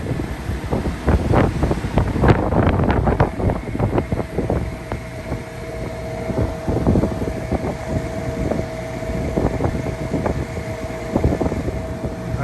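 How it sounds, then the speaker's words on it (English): Strong wind buffets a microphone on top of an off-grid trailer roof where old Siemens solar panels sit, producing continuous loud rumbling gusts with irregular thumps and flutters, no talking. "I hope the wind isn't too much"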